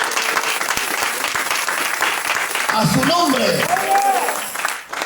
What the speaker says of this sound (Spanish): a quien le damos un aplauso en esta noche